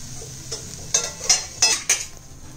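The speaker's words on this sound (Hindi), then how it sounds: "अब इसको एक मिनट के लगभग सेकेंड साइड फ्राई करेंगे" An egg half fry cooks in a pan, with a faint sizzle underneath four sharp metallic clinks and scrapes from a utensil against the pan.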